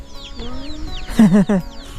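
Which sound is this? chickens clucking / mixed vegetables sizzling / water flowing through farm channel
chickens clucking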